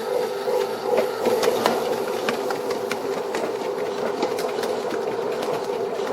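Dough mixer kneading sourdough bread dough at high speed, a steady close mechanical whir with a rhythmic knocking pulse from the dough, continuous and even throughout.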